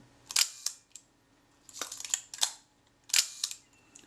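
Mechanical shutter clicks of a Retina Reflex III camera set to a slow speed, close and crisp, each firing with a short gap between open and close, repeated three times in a quiet room.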